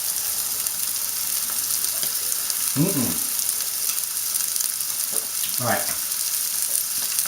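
Rump steak sizzling in a hot pan, a loud steady hiss filling the scene, with a couple of brief scraping or clattering sounds and a short spoken word.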